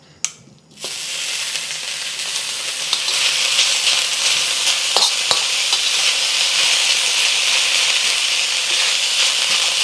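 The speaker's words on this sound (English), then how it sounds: "I've drained my preserved vegetables, so I'm gonna add that straight into the wok, and we're just gonna kind of dry fry it for a while" Drained preserved vegetables dry frying in a hot wok give a steady, loud sizzle that rises after a brief clatter at the start, with occasional scrape and stir knocks throughout and no talking.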